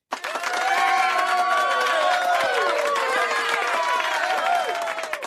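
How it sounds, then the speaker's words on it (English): A crowd gives a big round of applause, dense clapping and cheering that holds steady and loud for several seconds with no pause. "This big old round of applause is for you."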